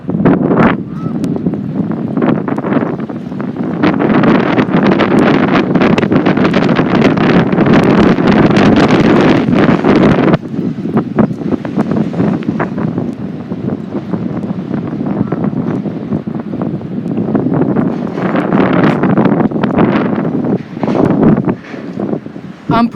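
Strong gusting wind by a river roars and buffets the microphone loudly and almost without pause, easing slightly midway before rising again.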